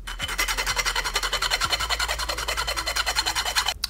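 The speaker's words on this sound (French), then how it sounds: "Je vais limer ici aussi un petit peu le bout là" A hand file rasps steadily across a small FIMO polymer clay candy-cane pickaxe, fast even back-and-forth strokes, close and continuous, with no talking.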